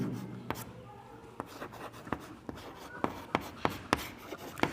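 Pen scratching out a trigonometry solution on paper, a steady run of short strokes and taps growing sharper and louder toward the end, with faint room noise and no talking.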